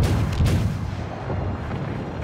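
A naval gun firing in World of Warships, a heavy low boom at the start that rolls off into a long rumbling tail, loud and alone with no talk.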